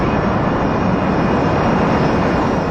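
A PSA airliner and a small Cessna roaring in flight over San Diego moments before a mid-air collision, a loud, steady broadband drone that stays constant throughout with no voices.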